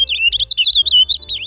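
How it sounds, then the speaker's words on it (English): Purple finch singing a rapid, warbling run of high chirped notes, clear and close, continuous for the whole moment with a faint low hum underneath. "Purple finches change their song with the seasons."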